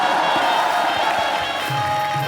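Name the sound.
audience applause and cheering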